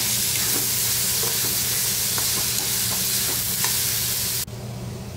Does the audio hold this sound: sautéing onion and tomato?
yes